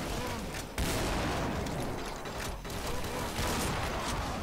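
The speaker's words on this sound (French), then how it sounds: "on reconnaît le bruit de la mitrailleuse de Doom 3" Rapid machine gun fire from a Doom 3 weapon in the Brutal Doom game on the Bio Labs level, with dense bursts of gunshots and booms packed close together across four seconds.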